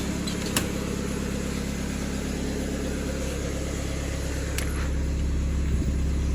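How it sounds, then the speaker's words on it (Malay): A Hyundai Matrix 1.6 with an automatic gearbox idles nearby, its engine warning light still on, giving a steady, even low rumble and hum that runs unbroken throughout without any talking. "engine saya sudah hidupkan"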